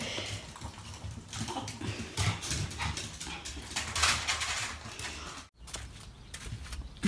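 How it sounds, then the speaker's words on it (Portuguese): Dogs moving about and scuffling close by in a home in Japan, with soft panting and whimpering sounds running throughout and a brief pause near the end. "Cachorros. O pessoal pediu pra ficar mostrando vocês."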